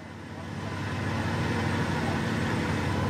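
A car sits with its engine running in an off-road desert recovery, a steady broadband motor drone that swells slightly as the vehicle is moved, heard close with no clear talk.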